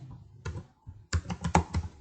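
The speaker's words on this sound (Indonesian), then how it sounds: "Di sini kita ketikkan ID" Quick keystrokes on a computer keyboard while an ID is entered into a database form: a short early pair of taps, then a brisk run of close, crisp clicks in uneven rhythm, with no talking.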